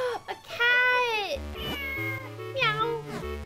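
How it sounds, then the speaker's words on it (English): In the Minish Cap game, a cat gives a long, drawn-out meow and then a shorter one, set against bright chiptune music. "A cat!"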